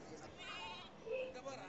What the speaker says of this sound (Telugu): ఇక్కడ కొన్ని ఉన్నాయి పొట్టేళ్ళు.